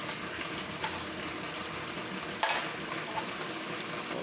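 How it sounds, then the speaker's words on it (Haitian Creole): Onions fry in a pan, making a steady soft sizzle and crackle with a brief scraping clack near the middle, with no voices. "Zon yon suppose fri."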